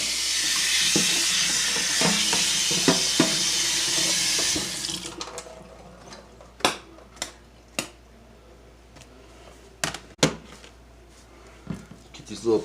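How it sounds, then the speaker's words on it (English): Water from a kitchen tap streams loudly onto a cutting board for several seconds during lasagna prep, then cuts off, leaving scattered knocks and clatters of the board being handled. "I'm gonna rinse off my cutting board."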